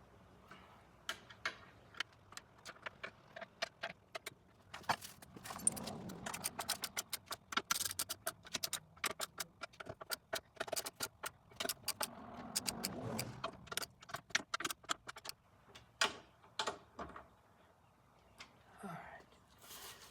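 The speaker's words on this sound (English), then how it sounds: "Go ahead and torque these down before I mount the bracket on" A torque wrench tightens bolts on a Jeep JL spare tire mount, giving rapid runs of sharp ratcheting clicks in bursts with short pauses, fairly quiet and close, with faint low voices in between.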